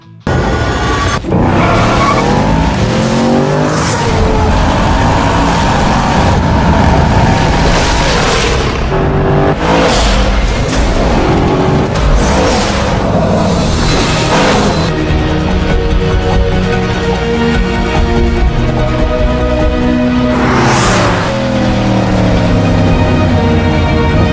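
A 2014 Mercedes SLS AMG Black Series with a 6.2-litre, 622-horsepower V8 drives in Need for Speed. The engine revs loudly and continuously, its pitch climbing and dropping through gear changes, with occasional booming hits and no talking.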